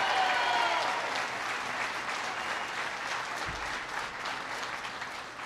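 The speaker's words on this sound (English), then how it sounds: "Please give them a big round of applause." A crowd at a factory event applauds members of Congress, steady dense clapping that starts strong and gradually tapers off over a few seconds.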